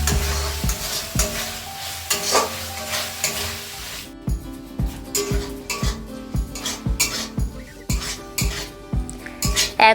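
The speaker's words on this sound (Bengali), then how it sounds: "ভালোভাবে নাড়াচাড়া করে নিচ্ছি।" Prawns and pointed gourd being stirred in a pan, a close, regular series of metallic scrapes and knocks over a low sizzle, with faint tonal music underneath.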